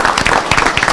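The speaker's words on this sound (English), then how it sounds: "How about another round of applause, please?" A city council meeting audience breaks into a short, loud burst of dense clapping, heard for about a second with no speech over it.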